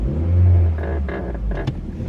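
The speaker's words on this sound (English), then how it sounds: "There is a car approaching me right now." A car approaches along a road, a low engine rumble swelling loud and close near the start, then easing off under faint rustle and clatter.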